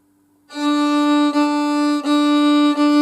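A sustained bowed fiddle note held steadily on D, loud and close, with slight bow changes roughly every second.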